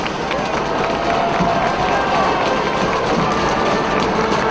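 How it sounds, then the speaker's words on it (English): Crowd noise at a high school football game between the Riverview Rams and Palmetto Tigers, a steady broad roar of fans on their feet during a fourth-quarter third down, loud and continuous with voices mixed through it. "Crowd on their feet, making some noise."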